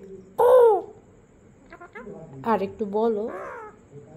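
A pet parrot named Mithu mimics a crow, giving one loud, harsh caw followed by several shorter raspy calls, while a voice speaks between them.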